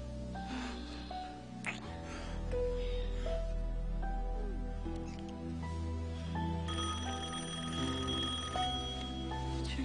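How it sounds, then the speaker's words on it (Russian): Telephone bell ringing indoors in repeated bursts, loud and near, layered over a background of music. "Пусть звонит."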